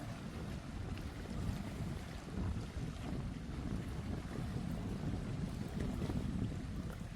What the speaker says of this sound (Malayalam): വെള്ളം വന്ന് അലതെല്ലുന്ന ആ ഒരു ശബ്ദം